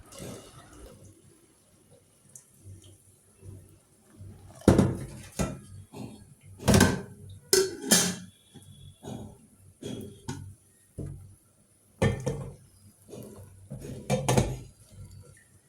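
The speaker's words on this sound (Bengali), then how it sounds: "এখন মার ফেলবো।" Someone handles a pot and lid while draining the starch water from cooked rice, with irregular metallic clanks and scrapes over splashing and pouring water, close by and fairly loud.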